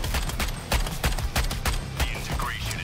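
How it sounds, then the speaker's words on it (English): Gunfire from a sniper rifle in the video game Suicide Squad: Kill the Justice League, a rapid series of loud, punchy shots and impacts amid game effects. "Hold on, I got a sniper rifle."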